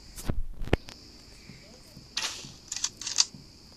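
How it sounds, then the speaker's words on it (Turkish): Several sharp gunshot cracks in a game, a couple of early bangs then a quick burst of shots later, over steady background ambience. "silah sesleri geldi ya"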